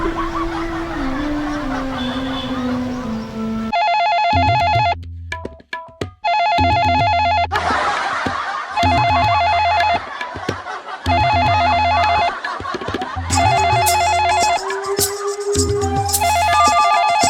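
A telephone rings repeatedly in loud, regular bursts of electronic bell tones separated by short gaps, with a few quieter sounds around it and no clear talking.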